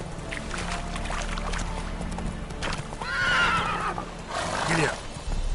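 Horse hooves clip-clop at a gallop in The Witcher 3 on PS4, with loud neighing whinnies rising around the middle and again near the end, set against steady game ambience.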